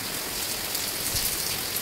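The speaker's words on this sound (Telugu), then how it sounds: "ఒంగోలులో మాత్రము ఫుల్ రెయిన్" Heavy rain in Ongole pours down in a dense, constant hiss and patter, steady and close throughout without pause.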